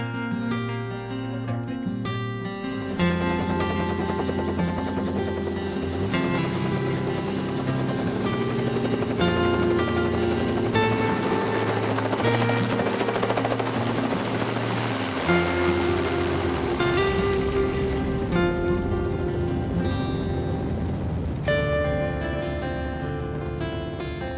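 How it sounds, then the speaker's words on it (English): A helicopter's steady rotor drone and engine whine fill the whole stretch in the Kimberley, loud and close as it comes in, holding constant with a slight rise and fall. "The helicopter's coming in now with my son"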